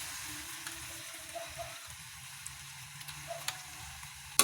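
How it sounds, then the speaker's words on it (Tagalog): Garlic sautés in a pan for butter garlic squid, giving off a quiet, steady sizzle with a few small ticks and pops, heard alone without talking. "Gisa-gisa lang natin yung mga mare."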